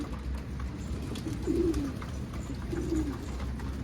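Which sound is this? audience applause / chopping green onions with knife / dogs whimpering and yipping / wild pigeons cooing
wild pigeons cooing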